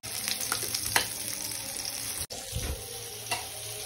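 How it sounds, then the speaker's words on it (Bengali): Spinach-leaf chops frying in hot oil give a continuous crackling sizzle, with small clinks and a brief stir partway through, and no voices. "এগুলো কিন্তু একবার করে ভাজা হচ্ছে"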